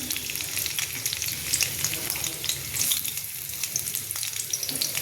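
Onion and garlic sautéing together in a pan, with chepa shutki and beans to follow: a close, continuous sizzle with crackling spits and faint stirring scrapes, no voices.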